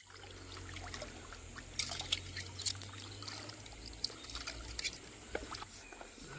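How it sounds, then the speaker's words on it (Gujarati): River water trickles and splashes quietly outdoors, with a few sharp clinks and scrapes of dishes being rinsed in the flowing river. "અમે આવી ગયા છીએ વાસણ ધોવા અને આ બાજુ છે નદી અને નદીમાં વાસણ ધોઈએ છે"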